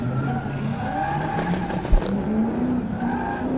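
Nissan S15 drift car at a Pure Drift competition, engine roaring steadily with sustained tire squeal and skidding throughout, one sharp thump near the middle, no talk.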